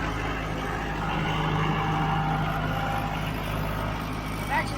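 A tractor engine with a grapple rumbles in 4-wheel drive, holding a low steady drone close by, while someone talks over it throughout.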